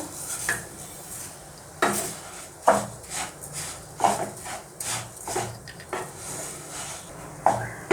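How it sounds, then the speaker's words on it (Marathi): A spoon scrapes and knocks against a pan while moong dal halwa with sugar is stirred. The strokes come in repeated, irregular bursts, close and clear, with no talk. "असंच एकसारखं हलवत राहायचं आहे, हलवायला चांगलं तूप सुटेपर्यंत"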